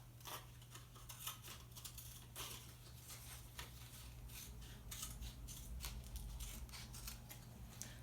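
Scissors cutting a piece of cardboard in half, with steady crisp snipping and rustling strokes continuing throughout, close but fairly quiet, alone with no talk.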